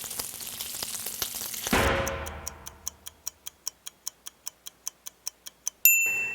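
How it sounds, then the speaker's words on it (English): Bacon sizzles on a round griddle, a dense crackling hiss that drops away after about two seconds, followed by a steady run of sharp, evenly spaced ticks like a clock and a brief high tone at the end. "A couple more turns of our bacon. and we're going to be ready to eat."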